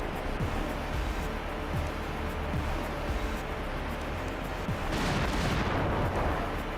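Missile fire in the Front Mission 2 video game, a series of booming launches and blasts rolling over a loud, constant roar, building to a heavier burst near the end.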